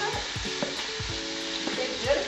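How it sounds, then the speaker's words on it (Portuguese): Steady sizzling of pork frying in a pan, a constant crackling hiss with occasional soft clinks of a utensil stirring, no voices. "Aí eu vou estar fritando"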